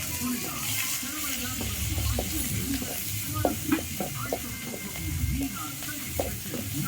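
Green chillies and curry leaves stir-fried in a pan, a steady close sizzle with scraping stirring clicks throughout, and faint speech in the background.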